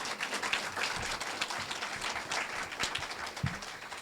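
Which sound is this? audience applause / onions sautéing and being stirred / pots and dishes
audience applause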